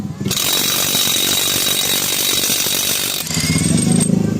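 DeWalt impact driver run at its highest torque setting on a 24mm fitting: a loud, close, continuous rattling hammer-whir lasting about three seconds, then shifting to a lower, rougher tone.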